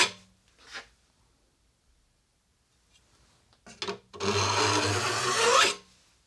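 Rasping file strokes on the steel teeth of a small backsaw being restored: a couple of short scrapes, a pause, then a longer grinding pass, close and distinct in a quiet room.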